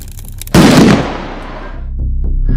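A cartoon bomb-style Diwali firecracker explodes with a single loud, sudden blast, then its rumbling boom trails off into quieter crackles and low noise.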